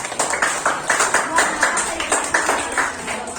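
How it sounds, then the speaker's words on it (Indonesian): A classroom of students claps together for a presenting group, a fairly close, rhythmic patter of hands with loose bursts repeating through the moment, with a voice faintly underneath. "Oke, berikan tepuk tangan buat kelompok 3."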